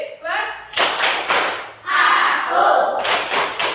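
Schoolchildren in an Indonesian primary school classroom clap a rhythmic class chant during a maths lesson, sharp bursts of hand claps mixed with thumps and young voices chanting together.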